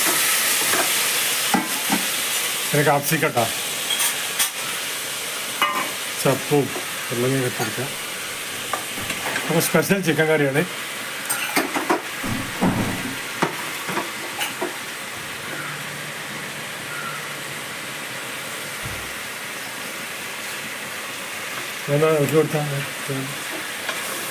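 Tomatoes hit hot sautéed onions in a pan, giving a loud, steady sizzle and frying hiss with intermittent stirring scrapes, while a person talks over it at points.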